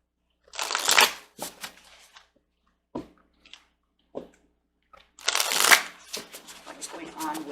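Sacred Traveler oracle cards are shuffled close by, with two bursts of riffling and flapping separated by a few soft taps and card handling sounds.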